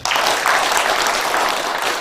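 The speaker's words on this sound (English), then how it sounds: "and then even a heavier clap for our presenters" Sustained applause from a sizable conference audience, a thick, even wash of clapping that holds throughout without speech.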